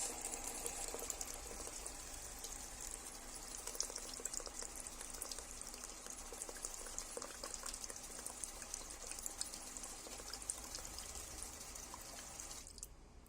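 An automated Raspberry Pi drink machine pours a 100 ml cocktail into a glass, giving a steady, moderately quiet liquid stream with a faint mechanical whir that runs the whole time and stops near the end.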